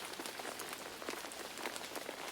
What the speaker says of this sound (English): The sky darkened some more, and the rain fell heavier